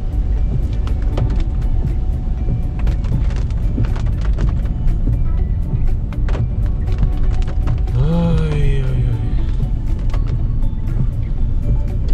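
A car moves slowly along a winding mountain road in the Anaga mountains of Tenerife, at about 30 km/h. Its engine gives a steady low rumble with road noise throughout, and a brief rising and falling tone cuts in near the end.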